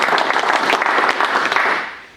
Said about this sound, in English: big round of applause for all our support